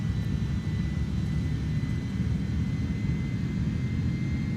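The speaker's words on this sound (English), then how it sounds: "let's put the engines up a bit. And let's click toga mode." Airbus A310-300 jet engines in MSFS 2020 hold a steady, loud, broadband roar at takeoff thrust, with a faint high whine running through it and no speech.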